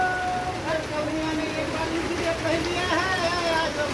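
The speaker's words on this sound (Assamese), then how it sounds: "তামাম বৰষুণ" Heavy rain pours down amid flooding, a dense, constant hiss of water on surfaces that fills the whole stretch while voices talk over it.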